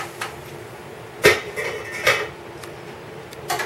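A metal lid is set onto a pot of water on a stove, giving a few sharp clanks and a ringing clatter against the rim, close and clear.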